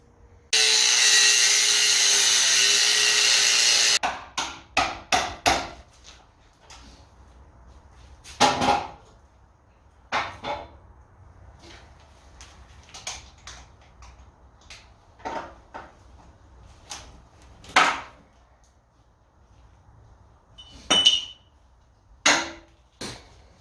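Cutting a body mount free on a 1977 Jeep CJ7 frame during restoration: a steady loud grinding burst first, then a string of separate sharp metal knocks and scrapes, some close and loud, others softer, with quiet gaps between.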